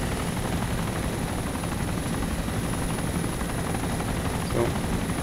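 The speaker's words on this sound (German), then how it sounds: "ich höre gerade eh nichts wegen dem Helikopter." A helicopter's rotor in the video game Arma 2 DayZ Mod drones loudly and steadily, a constant chopping roar filling the whole stretch without letup.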